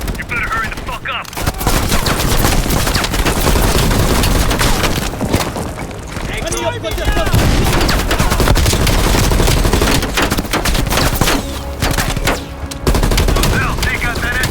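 Heavy machine gun fire in the video game Call of Duty Black Ops Cold War, loud continuous rapid bursts with booming impacts and explosions, nearly unbroken for the whole stretch, with voices occasionally heard under the gunfire.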